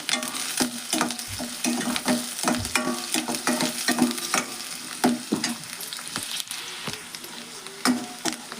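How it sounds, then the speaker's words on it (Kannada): Chopped green chillies fry in oil in a pan, with a continuous sizzle punctuated by frequent stirring clacks and scrapes of a utensil, close up and steady. "ಎಣ್ಣೆ ಒಳಗೆ ಫ್ರೈ ಮಾಡೋಣ"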